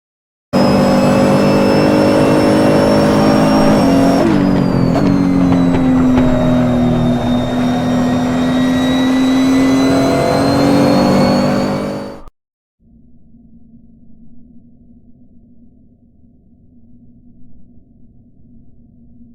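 Race car engine at high revs through a 45-degree banked curve at the cornering limit, loud and steady with a brief pitch dip, then cutting off abruptly into a quieter low hum.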